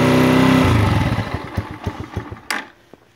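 A Romet K125 motorcycle engine, cold and kick-started on choke after long storage, runs loudly, then sputters and slows into a few uneven chugs before cutting out and falling quiet.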